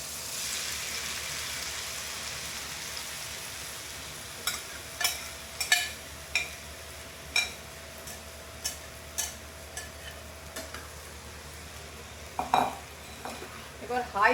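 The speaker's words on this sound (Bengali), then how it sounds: "এবার হাই ফ্লেমে এটাকে 7 থেকে 8 মিনিট ফ্রাই করতে হবে।" Marinated soya chunks fry in hot oil over a high flame, giving a steady background sizzle broken by a series of sharp spatters and clicks, close and moderately loud, with no voices.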